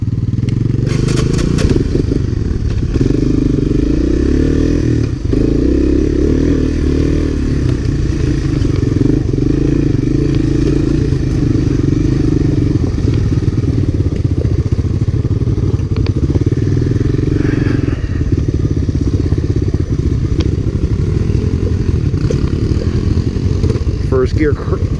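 Honda three-wheeler ATC engine crawling over rocks in first gear on a trail ride, a loud, continuous low rumble near the mic with clattering knocks and thuds from the terrain.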